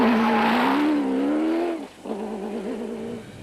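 Rally cars at the 2007 Hluhluwe 400 race past at speed. The engine drone rises and dips, then a second, slightly fainter car follows close behind.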